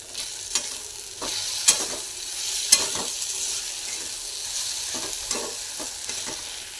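Spoon stirring and scraping through an eggplant bharit mix with fresh coriander in a pan, soft irregular scrapes and clinks over a low steady sizzle, close and moderately loud with no voices.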